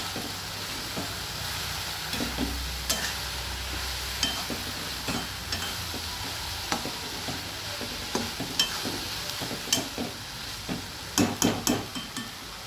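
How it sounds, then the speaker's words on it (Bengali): Vegetables stir-fried in a pan for a mucchuri (potato peel) curry, steady sizzling with repeated spatula scrapes and clinks that grow sharper and louder toward the end. "এবার সমস্ত কিছু আমি আবার ভালোভাবে মিশিয়ে নিয়ে ভাজা করে নিচ্ছি"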